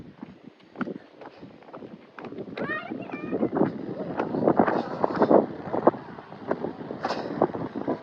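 Gusty wind buffets the microphone in a low rumble at a Kerala hilltop viewpoint while a person talks over it throughout.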